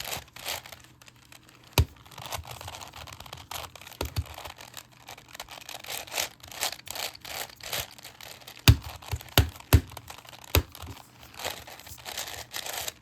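A Rubik's cube is scrambled by hand, with quick plastic clicks and clacks from the layers being turned, some sharper snaps standing out in an irregular rhythm close to the listener, and no speech.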